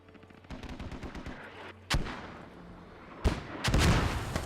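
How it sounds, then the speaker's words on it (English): A mortar strike lands in an online team shooter tournament match: loud explosive booms at roughly two and three seconds rip through steady, close rapid gunfire, with the last blast trailing into sustained rumbling fire. "a mortar right on top of Sarge and Hugo"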